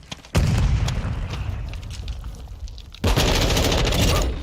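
Grenade blast and gunfire in Modern Warfare II multiplayer: a heavy boom hits early, followed by sustained rumbling rapid fire, then a second loud burst near the end, dense and close throughout.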